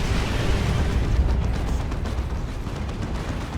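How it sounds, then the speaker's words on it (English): Artillery barrage from the game Dawn of War 2, in a Space Marines versus Orks match: a dense, continuous rumble of overlapping explosions, loud and close, with no talking over it. "Another barrage."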